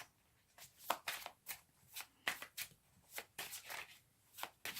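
Tarot cards being shuffled by hand, a steady run of crisp riffling bursts repeating roughly every half second, close and fairly quiet with no talking.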